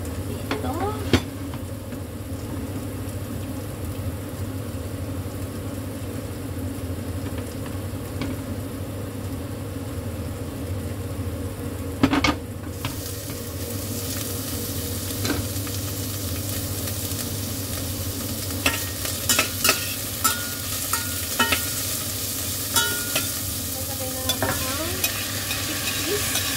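Veal pan-frying in a pan gives a steady sizzle, soft at first and then louder and brighter after a sharp clatter, with scattered scrapes and taps from stirring; no talking.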